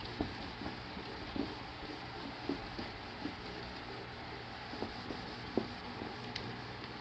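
Someone drawing a diagram of tooth structure during a class: faint, intermittent scratchy strokes spaced every second or so, close but quiet, with no talking.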